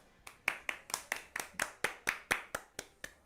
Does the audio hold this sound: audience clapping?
yes